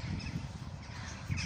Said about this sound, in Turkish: Kuşlar da yine uçuşuyor.